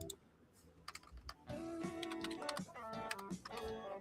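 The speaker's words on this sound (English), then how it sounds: "we can hear those keyboards" Rapid, irregular clicking of computer keyboard keys, fairly quiet and steady throughout, with brief bursts of louder tapping mixed among background sounds.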